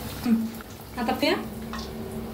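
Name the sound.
bread patties frying in oil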